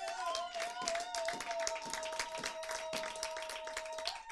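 Church congregation clapping in praise of the Lord, a dense, fairly steady run of hand claps at moderate loudness, with a sustained voice or tone running beneath the applause.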